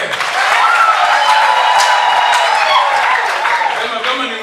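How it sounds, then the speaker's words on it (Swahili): Wedding guests break into applause, a loud sustained wash of clapping from a nearby crowd that holds steady before easing slightly at the end. "Makofi kwake."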